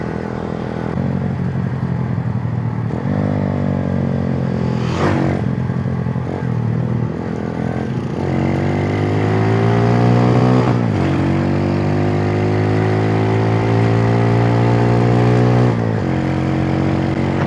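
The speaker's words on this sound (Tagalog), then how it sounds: "Sagad-sagad na naman ang ating motor." A Scrambler 110 motorcycle engine revs hard at full throttle, with rising whines that climb through several gear pulls. It is loud and close, with brief shifts between pulls.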